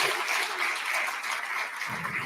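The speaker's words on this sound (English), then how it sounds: "Can we have a warm round of applause," An audience gives a warm round of applause welcoming U.S. Commerce Secretary Howard Lutnick as a guest at an India Today Global event, a steady, full clapping that holds evenly and eases slightly near the end.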